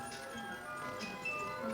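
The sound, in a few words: music box playing against wood in Black Forest shop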